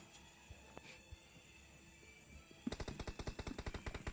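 Gunfire in the mobile shooter BGMI during an AR and sniper room match: after a few scattered shots over a low background hum, a loud rapid automatic burst fires in a steady stream.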